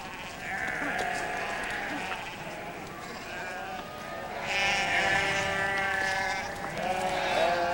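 Sheep on a farm bleat repeatedly, several overlapping calls at close to medium distance, growing louder midway, with a narrator's voice partly over them.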